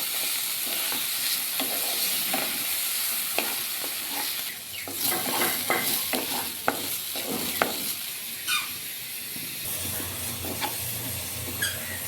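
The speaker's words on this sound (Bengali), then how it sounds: "ডালটাকে আমি একটু ভাজা ভাজা করে নেব।" Washed moong dal frying and being stirred in a pan, a steady close sizzle and hiss broken by scraping strokes of the spoon, with no talk.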